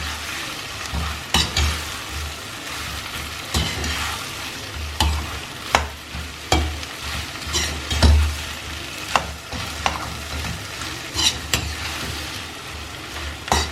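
Tomatoes and egg stir-frying in a hot pan, a loud continuous sizzle punctuated by repeated scraping and tossing thumps from the spatula, no talking.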